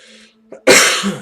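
A single sharp sneeze or cough burst from a person, loud and close, preceded by a brief faint breath in an otherwise quiet setting.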